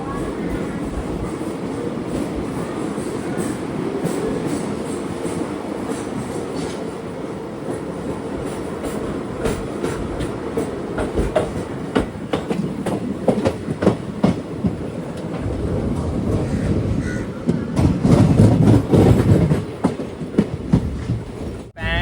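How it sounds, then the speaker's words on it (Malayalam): The West Coast Express pulls out of Salem with a sleeper-class coach rolling steadily, its rumble and clicking wheels building louder toward the end, heard from inside the carriage. "ആറ് 50 സേലത്ത് നിന്ന് ഇതാ ട്രെയിൻ എടുത്തിരിക്കുകയാണ്."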